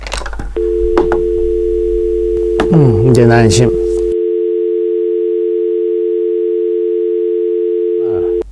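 A steady telephone dial tone hums after the receiver comes off the hook. It carries on evenly for several seconds, with someone talking and some handling noise over its start and then the tone alone.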